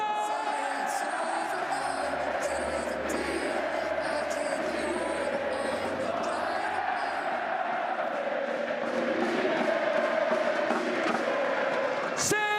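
Watch party crowd for a VALORANT Masters Santiago grand final between NS and PRX, a dense roar of many voices cheering and chanting together, sustained and fairly even, with some sharper shouts and claps poking through.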